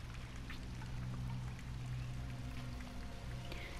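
Water trickles and patters inside a citadel in the video game Uncharted, a steady rain-like pouring texture layered over a low droning hum, continuous and moderately near with no speech.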